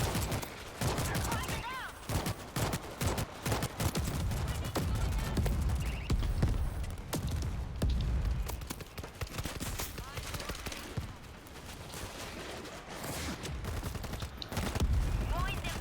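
Gunfire in the zombie shooter World War Z, a dense run of rapid bursts and single shots crackling almost nonstop through a tunnel fight, with voices talking over parts of it.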